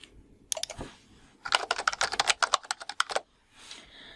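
Search terms tapped out on a computer keyboard in a quick burst of crisp, close keystrokes, preceded by a couple of isolated taps, with no speech.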